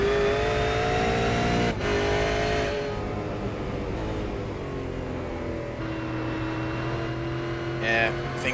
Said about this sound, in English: you can hear him lifting off before he gets to the brakes